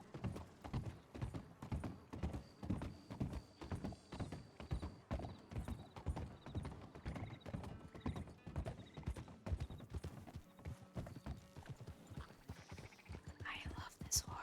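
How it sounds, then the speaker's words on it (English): A horse's hooves clip-clop in a steady, close rhythm over a hard surface, continuing throughout with soft whispered voices and brief mechanical sounds alongside. "I love this horse."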